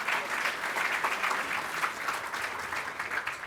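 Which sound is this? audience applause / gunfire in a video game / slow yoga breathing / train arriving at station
audience applause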